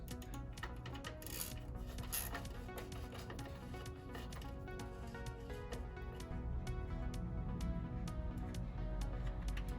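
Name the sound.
removing valve cover bolts on Ford Y-block engine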